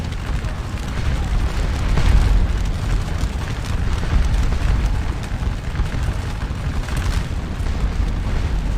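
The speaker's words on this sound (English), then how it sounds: "Hopefully these cannon will be opening up in a second." Napoleonic artillery in the Scourge of War Waterloo battle game, a dense continuous rumble of booming cannon fire and distant blasts, loud and sustained without clear gaps between shots.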